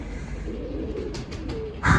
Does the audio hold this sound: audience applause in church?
no